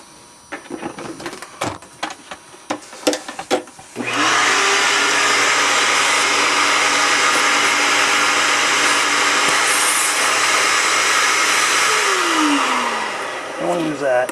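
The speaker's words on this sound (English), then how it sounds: "let me vacuum" A vacuum cleaner switches on after some faint knocking and handling sounds at a model railroad scenery workbench, then runs with a loud, steady whine and drone for about ten seconds, its pitch shifting slightly as it is moved.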